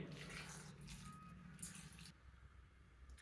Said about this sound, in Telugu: ఒక కప్పుడు వరకు వాటర్ పోస్తున్నానండి